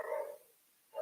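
A pet dog lets out two short, faint barks, one at the start and another a moment later, indoors and alone.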